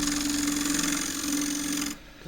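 Lathe gouge cutting across the bottom of a warped pear wood dish gives a close, steady scraping hum with a sustained tone, then cuts off abruptly near the end.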